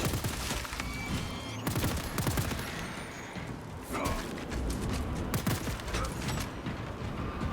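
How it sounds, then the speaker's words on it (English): A heroic bolt pistol in the Space Marine video game fires a dense suppressing burst, a continuous loud clatter of shots and mechanical rattles layered over heavy combat noise. "the #1 reason to take this heroic bolt pistol is for the burst suppress sound effect"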